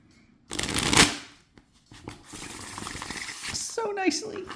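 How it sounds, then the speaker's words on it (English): Tarot cards being riffle shuffled up close: a loud fluttering burst, a pause, then a longer rustling riffle ending in a quick bridge. "They're made to be riffle shuffled"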